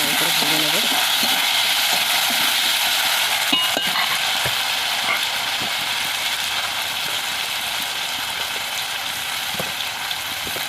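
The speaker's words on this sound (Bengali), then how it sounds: "এবারে আমি কেটে রাখা বেগুন আলুগুলো ভেজে নেব।" Chopped eggplant and potatoes fry in hot oil, giving a steady, dense sizzle throughout, with occasional scrapes and clicks from stirring in the pan.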